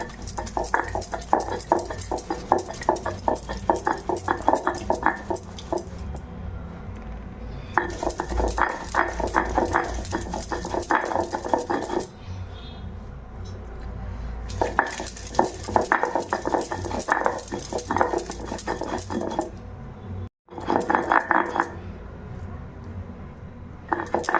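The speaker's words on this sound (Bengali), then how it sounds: "দেখো শিলনোড়াতে কুমড়ো পাতাটা বেটে নেব।" Pumpkin leaves, chillies and garlic are ground on a flat stone with a stone pestle, making repeated scraping, rubbing strokes in bursts with short pauses, close and moderately loud, with no voices.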